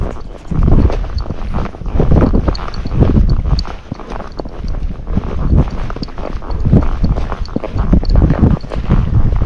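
Kentucky Mountain Horse, a gaited breed, walking over obstacles laid on the ground. Its hooves make a close, steady clip-clop rhythm, with wind buffeting the microphone.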